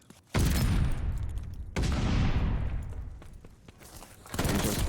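Gunfire and grenade blasts in a shooter video game at an esports match, with sharp loud bursts followed by rumbling decays, repeated several times close together.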